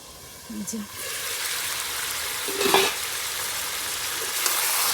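A pot of food sizzles over an outdoor wood fire beneath a tree, with steady frying hiss and occasional stirring scrapes; a brief voice sounds faintly near the start.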